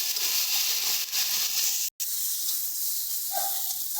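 Tomato slices dropped into hot spiced masala for a mustard-paste fish curry, giving a loud, steady close-up hiss and sizzle with a brief break partway through.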